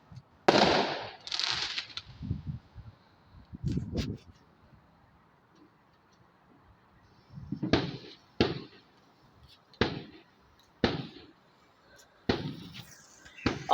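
Fireworks explode on Bonfire Night in a string of sharp bangs, a cluster at the start, then a quiet gap, then single reports spaced about a second or two apart, fairly loud against a quiet background.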